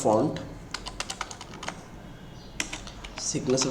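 A computer keyboard clicks through a quick run of keystrokes while a search is typed, close and distinct, with a voice speaking at the start and again at the end.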